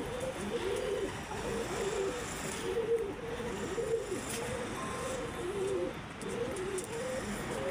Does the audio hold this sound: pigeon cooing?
yes